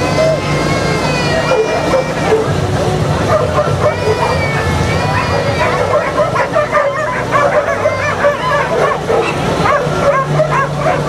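Dogs bark and yip excitedly at a dock diving event, with whimpers mixed in, over crowd chatter and a voice talking nearby.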